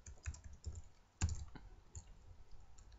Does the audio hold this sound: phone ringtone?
no